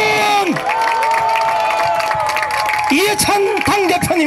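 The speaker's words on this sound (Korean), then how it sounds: "여러분 큰 박수로 맞이해 주십시오" A large crowd at a Democratic Party political campaign rally in South Korea applauds and cheers loudly and continuously, with shouts and whoops, while an amplified announcer's voice carries over the noise.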